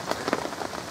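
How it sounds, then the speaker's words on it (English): Heavy rain falling on a flood defence lake, a dense, close patter of drops drumming steadily on the water's surface with no voices. "The rain has really picked up heavy"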